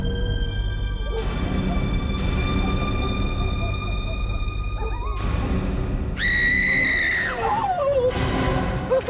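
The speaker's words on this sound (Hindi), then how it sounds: "वो चीखने की आवाज?" A woman's scream rises high and sustained near the end of a tense outdoor night scene from a CID crime drama, following loud ambient tones and noise, with no talk over it.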